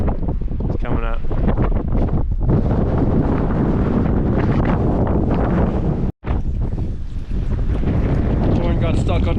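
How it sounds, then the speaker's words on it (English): Strong wind buffets the microphone beside an icy mountain lake in the Eastern Sierra during trout fishing, a loud, continuous roar with a brief dropout, and a person talking faintly beneath it. "It's just super windy."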